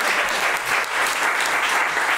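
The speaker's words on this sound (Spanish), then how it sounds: "pedir un fuertísimo aplauso a la gente de Teorética" An audience breaks into strong, sustained applause, a dense wash of many hands clapping at once, loud and steady throughout with no voices standing out.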